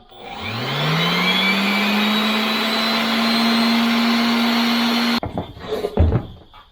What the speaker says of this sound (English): Palm sander, anyone?